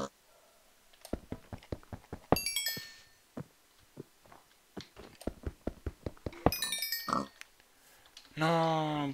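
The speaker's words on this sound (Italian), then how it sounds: "Quanti maiali!" Pigs oinking in a video game, short grunts scattered through the clip alongside clicks, chimes and other game sounds, with a voice talking over them.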